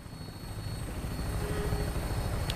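Helicopter rotor drone from Fallout 4, a steady low thrum holding at an even level throughout, with no talk over it.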